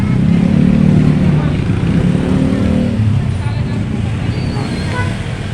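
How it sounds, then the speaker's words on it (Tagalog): Steady, loud road traffic near a 7-Eleven, with cars and motorcycles rumbling past close by in a continuous low drone, and a voice briefly heard over it. "Traffic na rin dito."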